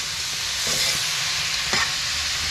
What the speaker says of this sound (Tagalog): Yan, ginigisa na po.